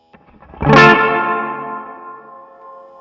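An electric guitar chord played through a Keeley ZOMA reverb and tremolo pedal rings out with a bright attack, then decays slowly in a long, shimmering reverb tail with a gentle pulsing wobble, loud and alone.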